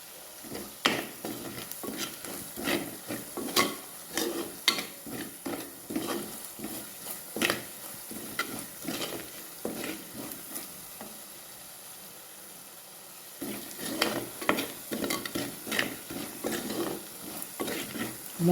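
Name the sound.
sautéing chili powder and masala in a pan for fish curry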